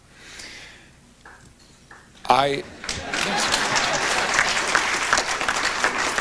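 A studio audience applauds a journalist in an interview setting, the clapping rising abruptly after a brief pause and holding as a steady, fairly loud wash of hands.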